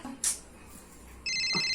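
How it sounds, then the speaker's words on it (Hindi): A phone ringtone begins partway through and continues steadily, a bright repeating electronic tone loud against a quiet room. "जो आने वाला है उसका फोन तो आ ही गया"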